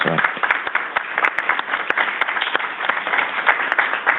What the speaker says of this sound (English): So let's give a round of applause for Grady's Garden at Converse.